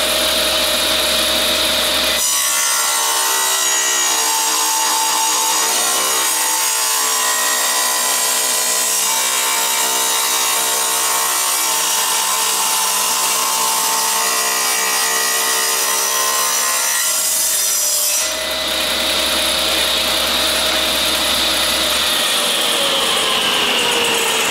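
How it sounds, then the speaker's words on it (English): A power saw rips through dirty old wood at an angle, a loud continuous cutting whine with a steady rasp running about fifteen seconds, bracketed by the motor running free before and after the cut, with no talking. "And then now I'm just gonna rip the other angle"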